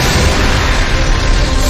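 A massive explosion rendered as a loud, continuous roaring blast of noise with a deep rumble that holds steady throughout.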